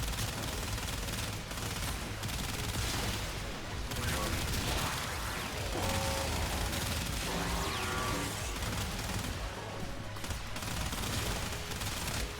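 The Basmu weapon in the video game Warframe fires steadily for several seconds, a dense, continuous barrage of shots and impacts mixed with other game effects.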